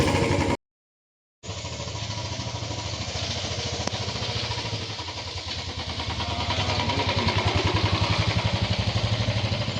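Motorcycle engine running after being started, a steady close putter and mechanical clatter that grows slightly louder toward the end, following a brief silent gap at the start.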